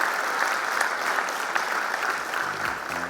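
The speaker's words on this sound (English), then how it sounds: "So big round of applause for you, Mr. Vaidyanathan." Steady applause from an audience fills the clip, dense clapping holding at an even level throughout with no voices over it.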